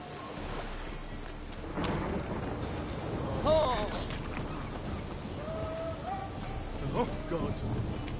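Heavy rain in a video game, a continuous hiss of falling water with low thunder-like rumbles, heard at moderate distance beneath scattered game sounds.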